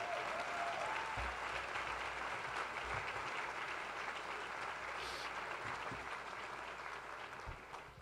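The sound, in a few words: applause at press conference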